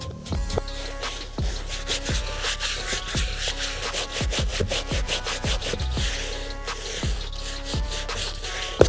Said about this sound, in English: I went ahead and used the medium bristle brush on this midsole to get it back to that white